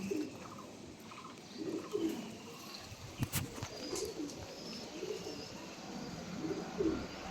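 A pair of teddy pigeons give soft, low rolling coos at intervals, faint and somewhat distant over steady background noise, with a brief sharp click midway and no talking.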